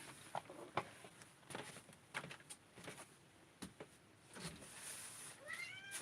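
A pet cat outdoors by the door meows near the end, a short rising cry after scattered soft taps and knocks in a quiet room.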